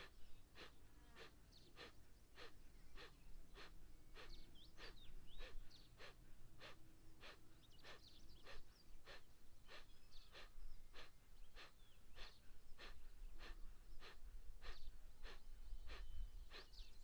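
Rhythmic Kapalbhati yoga breathing: a steady train of about two dozen sharp, forceful nasal exhalations at roughly one and a half per second, close and moderately loud, with no talking over them.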